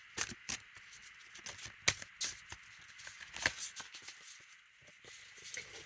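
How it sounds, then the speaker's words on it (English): Tarot cards being shuffled by hand, a loose run of quick papery flicks and slaps in irregular bursts, close and crisp, with no voice over them. "I'm just going to shuffle another card."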